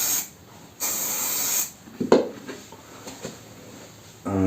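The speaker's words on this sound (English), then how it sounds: "just spray it, shake it, and spray it underneath" Silicone oil lubricant sprayed from a can under a treadmill belt, two loud hissing bursts close by, followed by light handling clicks and knocks, with no talking.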